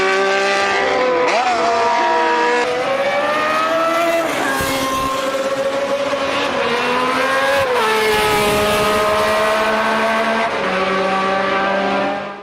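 Simulated Ferrari flat-12 Formula 1 race car engine in the driving game BeamNG, a loud, continuous high-revving scream that climbs and drops through repeated gear changes, heard alone and close for the whole stretch.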